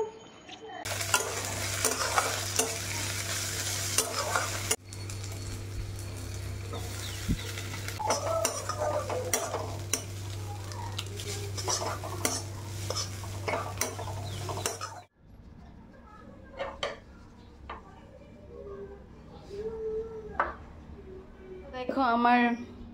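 Butter, garlic, potato, chili and tomato sizzle in a pan for Maggi, with spoon scraping and stirring clatter in bursts, a low steady hum beneath and a few quieter clinks later.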